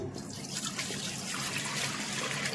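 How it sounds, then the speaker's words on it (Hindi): Water is poured from a milk pot into a pressure cooker, giving a steady, close splashing trickle that runs for a couple of seconds with no talking. "ये जो पानी है दूध के जो बर्तन में जो पानी है, इसको मैं ट्रांसफ़र कर देती हूँ कुकर में।"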